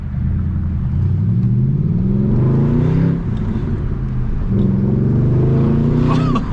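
A car with a muffler-delete exhaust revving hard while driving, a loud raw engine drone rising and falling through two pulls, close by with rumbling exhaust tone.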